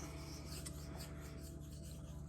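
A Leatherman Arc MagnaCut knife blade being sharpened, a quiet, steady raspy rubbing of steel drawn across an abrasive, close and faint, with no talking.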